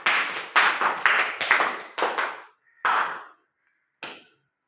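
Schoolchildren at a primary school clap together in a few quick bursts of applause, loud and close, the last bursts shorter and separated by silences.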